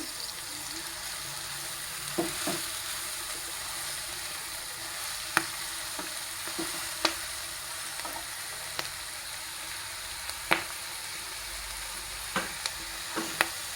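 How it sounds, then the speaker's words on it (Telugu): Fenugreek leaves fry in a pan with a steady, even sizzle, broken by sharp scraping and tapping strokes of a spatula every second or two. "మెంతి కర్రీ వేసుకొని మంచిగా ఫ్రై అవ్వనివ్వాలి"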